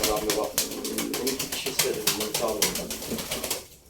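Pigeons coo in a steady, overlapping chorus, soft throaty calls repeating close by, with some faint voices or background murmur mixed in before it drops away at the end.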